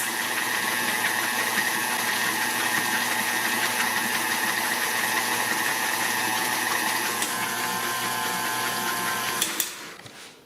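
An electric mixer beats powdered sugar into white chocolate cream cheese frosting with a steady, close mechanical whir that holds for about nine seconds, then cuts off.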